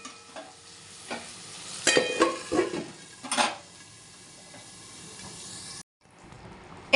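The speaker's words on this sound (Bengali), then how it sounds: "চলো এবার আঁচটা কম করে ঢাকা দিয়ে রেখে দিই।" A metal lid is set onto a cooking pot of spiced potato curry turned down to low heat in a home kitchen, giving a few close clinks and scrapes over a soft sizzle that briefly drops away.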